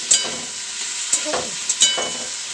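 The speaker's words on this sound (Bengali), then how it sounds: "বন্ধুরা দেখো, এখানে তরকারি বসিয়ে দিয়েছি আমি।" Vegetable curry of potato, pumpkin and pointed gourd cooks in a pan, giving a steady low sizzle broken by a few sharp spoon scrapes and clinks at a close, moderate level, with no talking.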